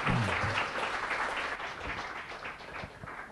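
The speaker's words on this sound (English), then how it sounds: "So if you could please give a big round of applause to His Holiness." Audience applause at a spiritual talk in London, steady broadband clapping from a crowd that stays fairly even before gradually thinning, with a few brief low voices underneath.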